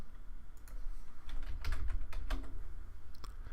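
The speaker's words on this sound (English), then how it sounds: "I'm going to go ahead and type it in because I know what it is." Keys on a computer keyboard are tapped in quick irregular bursts, close and fairly crisp over a low background hum, as a game key is entered.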